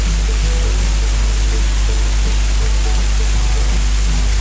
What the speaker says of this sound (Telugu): ఈ జలధారలు సవ్వడి వింటుంటే భలే ఉండండి